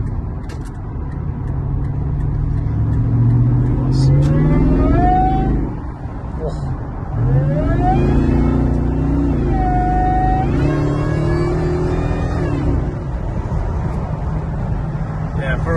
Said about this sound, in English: The sound of that V8 just gets addictive.